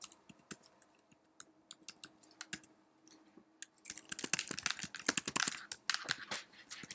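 Rapid typing on a computer keyboard, sparse scattered key clicks at first that build into a dense, fast burst of clattering keystrokes near the end, close and fairly quiet with no talking.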